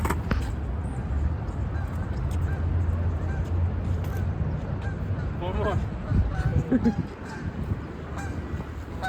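Geese honk repeatedly during an outdoor exercise session, a cluster of loud, nasal calls from nearby birds sounding over a rushing background, with the honking busiest in the middle and tapering off.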